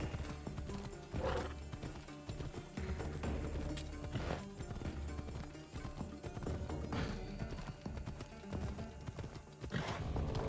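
Horse hooves clatter at a gallop in the Assassin's Creed Odyssey video game, a steady loud rhythm of thudding beats under game music and effects, with occasional whinnies.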